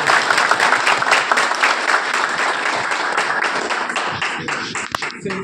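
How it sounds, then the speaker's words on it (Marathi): Audience applause from a crowd in Kolhapur, a dense, steady wash of clapping that holds loud throughout and thins slightly near the end, with no talk over it. "कोल्हापूरकरांच्या टाळ्या वाजवा"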